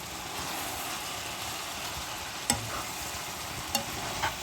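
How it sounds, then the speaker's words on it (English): Dried fish simmering in a serm curry, a soft steady bubbling and sizzling from a nearby pot with a few sharp clinks, and no talking. "I'll let my dry fish cook."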